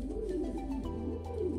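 Pigeon cooing from a breeding pair of true pintail pigeons, a low soft repeated coo close by, steady and alone with no talk.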